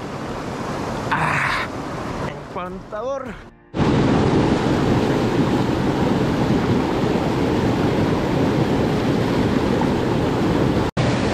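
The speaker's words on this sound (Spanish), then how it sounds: "no sé si escuchan mi voz por el sonido del agua caer" Steady roar of water falling at the Yautepec river in Morelos, loud and continuous for most of the clip after a few seconds of someone speaking with bursts of splashing.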